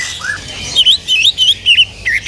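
A caged songbird at a kiosk in the Pramuka bird market chirps loudly and close, giving a quick run of sharp, repeated tweets with short gaps.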